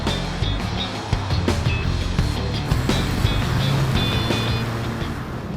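A Ferrari Roma driving along, its engine a steady low rumble with road and wind noise running continuously throughout, moderately loud and close, no voices over it.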